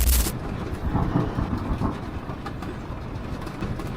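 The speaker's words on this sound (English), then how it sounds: "Oh my gosh, that thunder feels like it's shaking the van" A deep, rolling rumble of thunder swells and lingers, heavy and low, with a brief sharp burst at the very start, heard from inside a van during a storm with heavy rain.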